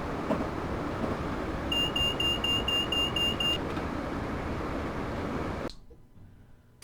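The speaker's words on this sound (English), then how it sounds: "driver safety device" Driver safety device alarm in a Class 321 EMU model train cab, a steady high repeating beep lasting about two seconds over a constant loud rumbling hum that cuts off near the end.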